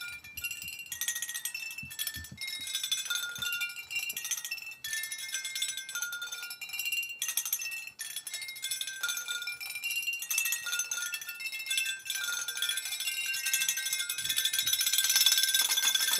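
A purple bell is struck repeatedly in a recording studio, its bright, ringing metallic tones layering and sustaining across the passage, with clinking overtones and no voices.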